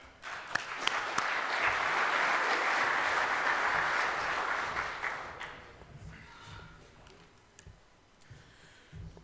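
An audience welcomes a speaker with applause at a talk on a one-pass spring strip till system, a full burst of clapping that holds for about five seconds, then thins to a few scattered claps.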